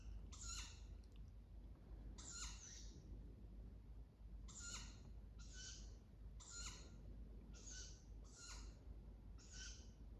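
A pair of owls calls in a late evening wood, with eight repeated hooting, screechy calls at steady intervals over a faint low rumble, fairly distant.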